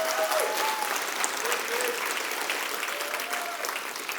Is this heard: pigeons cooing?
no